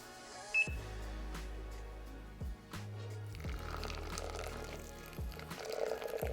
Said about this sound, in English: now that we have our coffee in, we're gonna add the water on top.